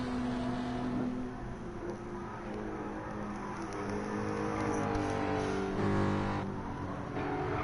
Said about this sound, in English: Mez Racing in a Ford Mustang at Spa on his way to victory